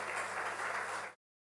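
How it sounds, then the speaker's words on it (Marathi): An audience at a public gathering claps together in a dense, even burst of applause, fairly faint, lasting about a second before cutting off abruptly into silence. "जोरदार टाळ्या झाल्या पाहिजे"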